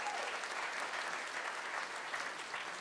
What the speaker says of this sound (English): Can we please uh, give ourselves a round of applause for that?